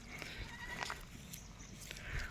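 Goats bleating in a herd of Himalayan Gaddi livestock, a few short bleats rising over the low hum of the herd, moderately close with background rustle.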